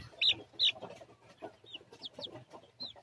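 Chickens, a Siamo hen's chicks crossed with a Rhode Island rooster, cluck softly and close by, with a few sharp high peeps mixed into the low, steady farmyard chatter.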